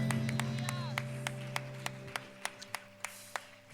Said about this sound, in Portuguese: Vamos aplaudir o Senhor e vamos adorar a Ele